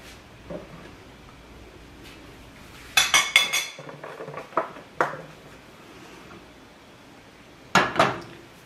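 A metal pot clanks onto a stove in a couple of clustered bursts, close and sharp, separated by quiet gaps, as vegetable oil goes in before quinoa is added.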